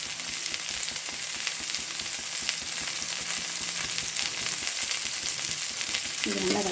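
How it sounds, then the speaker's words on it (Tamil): Vegetables for wheat adai sautéing in a pan: a continuous dense sizzle of frying at an even level throughout, with faint scraping of a spoon, no talk. "இது கொஞ்சம் நல்லாவே வதங்கட்டும்."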